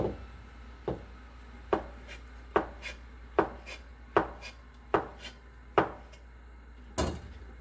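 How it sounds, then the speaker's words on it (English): Knife slicing vegetables on a cutting board for Korean soft tofu stew, nine crisp, evenly spaced chops in a slow steady rhythm, close and fairly quiet. "Slice it again."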